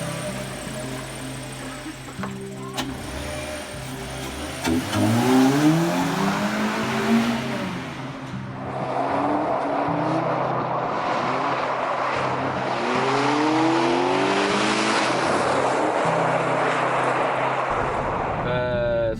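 Homemade buggy cut down from a car at home, driven fast on a highway; engine roars and climbs through several gear changes, rising then settling into a steady loud cruising drone with wind and road noise, no talk.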